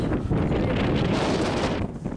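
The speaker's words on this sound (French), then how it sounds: "Par contre c'est le vent." Steady, loud wind buffets the microphone on an outdoor tennis court, a continuous roaring rush across the whole stretch that eases slightly near the end.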